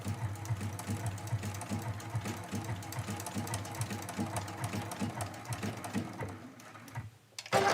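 Sewing machine stitching a curved stem on a medallion mystery quilt, a steady rapid mechanical chatter running close for several seconds before stopping near the end, with brief quiet and a thump after.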